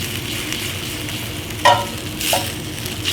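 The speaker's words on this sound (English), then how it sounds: "we're deglazing that pan with red wine" Red wine hits a hot pan to deglaze it for braised short ribs, giving a close, continuous sizzle with a sharp scrape-like burst partway through and a second swell of hissing shortly after.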